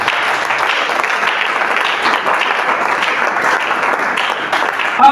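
A church congregation applauding together, a loud, sustained wash of many hands clapping that holds evenly for several seconds.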